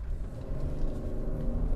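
Steady low engine rumble of a 2017 GMC Acadia pulling away from a standstill in sport all-wheel-drive mode, heard from inside at moderate level with no talking.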